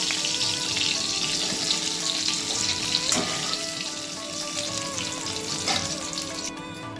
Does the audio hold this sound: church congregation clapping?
no